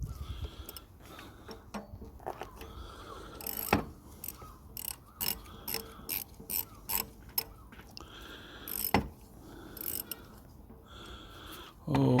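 A ratchet clicks in a series of short bursts while loosening 8mm bolts on hose clamps during a diesel filter change on a Honda CR-V i-DTEC, fairly quiet and close, with occasional louder knocks and someone talking at times.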